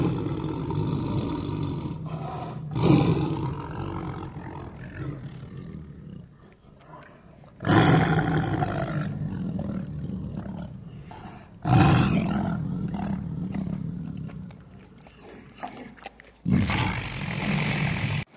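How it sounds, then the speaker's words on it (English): A tiger roars in several separate bursts, loud and close, each a deep rasping call with pauses between, alone without talk. "tiger"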